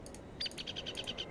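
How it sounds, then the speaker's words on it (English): A faint seagull calling outside, a short run of quick repeated high chirps over a quiet room background. "There's a seagull outside."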